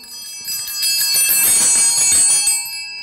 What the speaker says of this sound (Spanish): también tenemos las campanillas